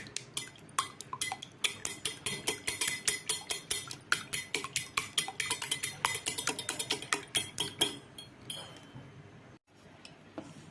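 A mixture stirred briskly in a bowl: quick, rhythmic metallic clinks of a utensil striking the sides, close and steady for about nine seconds before trailing off, with no talking.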